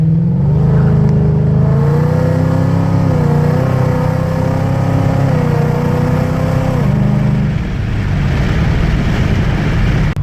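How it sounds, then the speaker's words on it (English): A Ford Mustang fitted with a MagnaFlow 3-inch exhaust, stage 3 cams and a mono blade, idles with a deep, steady rumble, the engine note rising slightly at moments and then settling back, loud and close. "I'll be nice and quiet so you guys can hear the car because it actually does sound pretty darn good."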